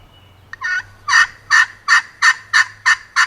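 A carbon friction turkey call yelps in a steady series of about seven raspy, fairly high-pitched notes, evenly spaced and close, with no talking.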